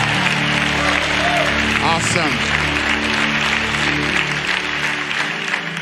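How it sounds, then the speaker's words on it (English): A church congregation claps their hands together in praise, a dense, steady wash of clapping filling the room, with worship music and a voice sounding beneath it. "Can we give Jesus praise as we clap our hands together?"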